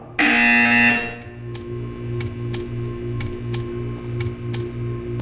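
A loud electronic buzzer in the Portal 2 video game blares for about a second, then gives way to a steady rhythmic ticking of sharp clicks over a low hum.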